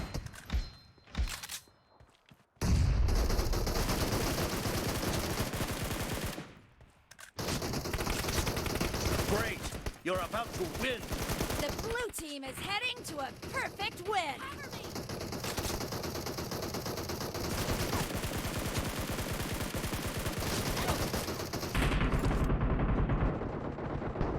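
Loud, nearly continuous automatic gunfire and bursts of shots fill a 4v4 arena mode in an online shooter, dense and close, with brief gaps early on.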